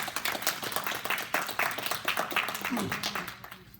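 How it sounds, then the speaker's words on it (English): Steady applause from a seated workshop audience, dense overlapping claps at a constant level throughout, with a few voices mixed in. "let's give the Greens a round of applause"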